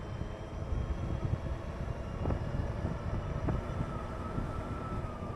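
Macfox X7 fat-tire e-bike on a top speed run, a steady broadband rush of wind and road roar with a faint motor whine, continuous and fairly loud with no voices.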